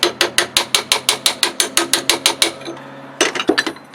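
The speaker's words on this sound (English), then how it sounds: "But just stick that on and just tap it." About a dozen sharp metallic taps of a hammer fitting a guard onto a knife tang land in a quick, even rhythm, then a short pause before a few more close, loud strikes.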